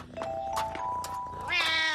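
A cartoon cat in a French animated show gives a clear meow that rises into a drawn-out, higher yowl at the end, loud and close, with no talk over it.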